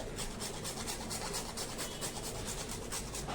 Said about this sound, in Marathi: जायफळ मी याच्यामध्ये छान किसून घातलं